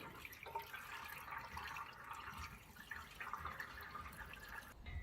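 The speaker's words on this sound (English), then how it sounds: "That's the radiator filled up now" Water is poured into the radiator of a David Brown 990 tractor, a steady, soft, gurgling trickle of liquid running for several seconds, faint and close with no talking.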